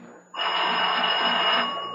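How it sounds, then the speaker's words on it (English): An old-style telephone ringing upstairs in a 1974 radio mystery drama: a single sustained metallic bell ring that starts abruptly after a brief pause, sounds somewhat muffled and distant, then fades slightly at the end. "It's that phone upstairs, Hal."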